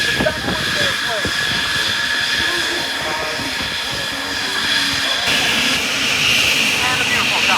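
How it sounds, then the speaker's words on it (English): An airplane flies backwards during an airshow pass, its engine roaring steadily and fairly close while a commentator talks over it. "It's a backwards airplane."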